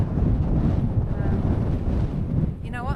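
Strong, cool coastal wind at Greens Pool near Denmark roars steadily across the microphone in a loud, unbroken rumble for the whole stretch, with no pause or voice.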